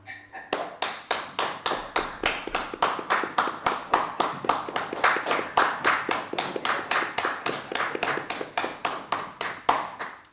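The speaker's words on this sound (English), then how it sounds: "can we give a big round of applause to the APM unit for an amazing webinar?" Webinar participants clap for the APM unit over open microphones: a steady, evenly paced run of close, crisp hand claps lasting about ten seconds with no talk.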